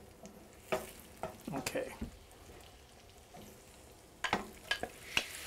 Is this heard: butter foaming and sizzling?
yes